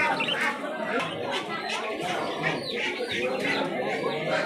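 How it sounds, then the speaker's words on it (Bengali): A flock of budgerigars at a village bird market chatters and chirps continuously in a dense, busy twitter, with a murmur of crowd noise underneath. "দেখুন বন্ধুরা বদ্রি পাখি"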